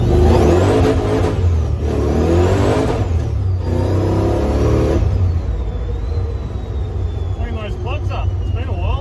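An XY Ford Falcon drift car with an LS V8 swap, driven on the street, revving loudly and steadily with rising and falling engine pitch, continuous and close throughout, with a person talking over it.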